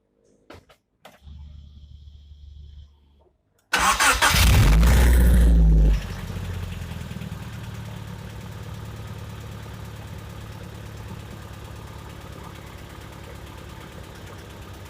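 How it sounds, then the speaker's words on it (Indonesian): Honda Civic Estilo petrol engine cranking and firing up with a loud burst, then settling into a steady, even idle heard up close, with a few faint clicks before the start. "Sekarang kita hidupkan dulu mesin."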